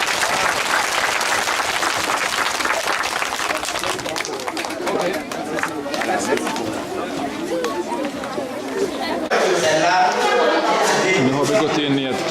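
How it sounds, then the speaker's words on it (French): An audience at a school ceremony in Burkina Faso breaks into sustained, dense applause mixed with crowd chatter and voices, swelling louder near the end. "Allez, applaudissez pour..."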